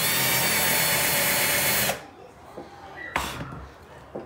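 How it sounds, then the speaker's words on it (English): A power drill bores into a wooden baseboard for a doll treehouse, a loud steady whir for about two seconds before stopping, followed by a few light wooden knocks and a brief second burst. "Just going on where I had already drilled."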